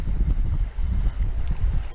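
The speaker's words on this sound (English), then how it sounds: "This wind ain't making it very easy to get them in the net" Strong wind buffeting the microphone out on a boat while trout are netted, a loud continuous low rumble with gusty swells and no talk.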